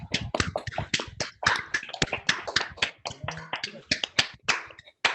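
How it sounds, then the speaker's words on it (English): Scattered clapping picked up through several microphones in an online meeting honouring Elder Duke Redbird: uneven, separate claps with some taps and snaps, fairly close and dry, with no talking over it. "let's turn our mics on and give Duke a round of applause again."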